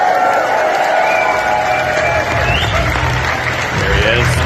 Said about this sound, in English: give Chris McFeely a big round of applause